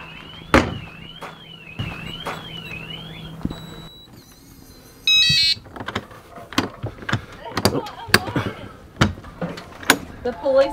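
An RV security alarm wails in rising sweeps, then beeps and chirps, mixed with sharp clicks and knocks as people talk nearby.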